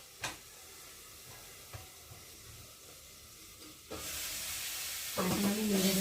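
Food frying in a pan as it gets stirred: quiet opening with a few soft knocks, then a louder hissing sizzle swells in about two-thirds through and keeps going, close by, with no talking.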